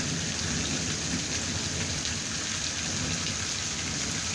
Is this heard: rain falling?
yes